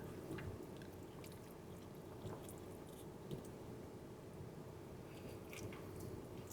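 Crisp crunching and biting of tortilla chips mixed into a carne asada nacho salad from Chipotle, a steady close-up series of soft chews and crunches with no talking.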